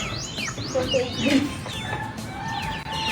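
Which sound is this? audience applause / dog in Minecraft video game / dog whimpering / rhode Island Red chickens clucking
rhode Island Red chickens clucking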